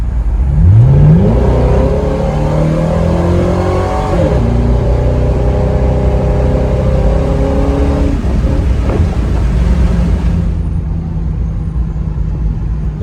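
A 2010 Ford Crown Victoria Police Interceptor with an inexpensive aftermarket exhaust revs hard on a closed road, its engine climbing in pitch, dropping back and surging again, loud and close, with no talking.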